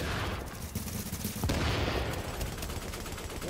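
Dense, continuous gunfire and explosions from a shooter video game, The Division, loud and filling the whole stretch with a brief heavier burst midway.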